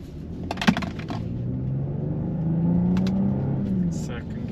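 A 2022 BMW X3 M40 pulls hard from a rolling start in a roll race against a Genesis GV70, its engine note climbing steadily and loudly, with people talking over the drone.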